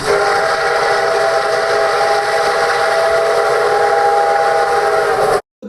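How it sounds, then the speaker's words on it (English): A steam locomotive whistle, the South Simcoe Railroad No. 136 whistle as used in the game Red Dead Redemption, blows one long, loud, steady chord alone for over five seconds before cutting off abruptly. "But this was later changed to South Simcoe Railroad No. 136's whistle in the final version of the game."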